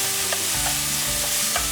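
Mushrooms stir-frying in a little oil in a pan, a close, steady sizzle with quick stirring scrapes and light taps of the utensil.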